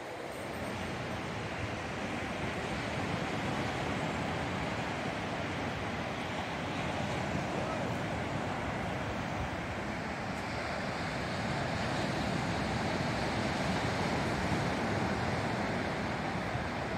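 Ocean surf rolls onto a beach on a clear day as a steady, broad wash of wave noise with wind buffeting the microphone, continuous and fairly even throughout, with no voices.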